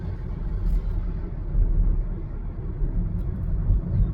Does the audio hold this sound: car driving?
yes